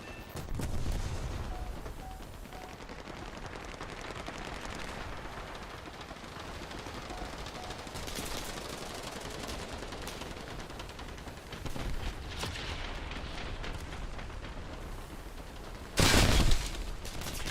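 Bombs dropped from a plane in War Thunder explode amid a steady roar of engine and rumbling combat noise, with a louder blast near the end, all fairly distant and dense.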